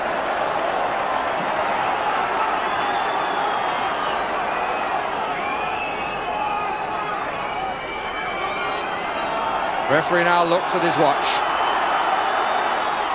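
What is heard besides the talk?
football crowd encouraging Southampton at FA Cup match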